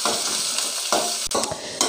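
Chicken pieces fry in a pan with a loud, dense sizzle, broken by a few bursts of stirring and scraping, close up and without voices.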